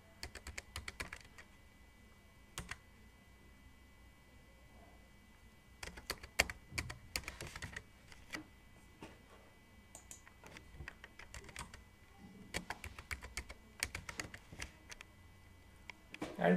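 Someone types on a computer keyboard in a quiet room, close and fairly soft. Irregular clusters of quick key clicks are broken by short pauses.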